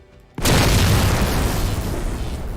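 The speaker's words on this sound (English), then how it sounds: "I do have Lich explosion sounds." A Lich explosion effect from a Halo 3 mod hits suddenly and very loud, a dense roaring boom that sustains at full force with a long rumbling tail.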